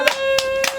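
A few sharp hand claps, three separate bursts, sound over a steady sustained musical tone in a Maithili folk comedy performance.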